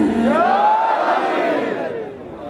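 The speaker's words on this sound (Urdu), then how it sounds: "اور بلند کر کے نعرہ حیدری" Crowd at an Ashura mourning procession for Imam Husain, many voices chanting the religious slogan Nara-e-Haidari together in one loud sustained unison cry that fades toward the end.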